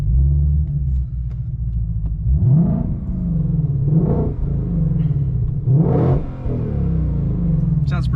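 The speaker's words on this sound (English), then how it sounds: "this mode will turn the exhaust onto the track setting, the loudest setting" Deep, loud exhaust rumble from a 2021 Shelby GT500 set to track mode, the loudest exhaust setting, with several revving swells over a constant low drone and a voice talking faintly beneath.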